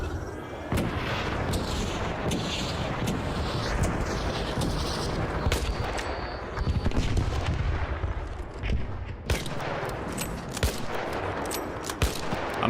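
Sustained bursts of gunfire and heavy explosive blasts from the video game Arc Raiders, loud and dense, with sharp impacts punctuating a continuous roar of combat.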